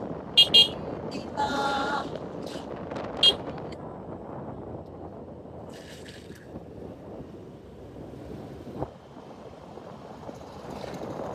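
Steady wind buffets an outdoor microphone with a low continuous rumble throughout, broken by a few brief bird-like chirps and small knocks.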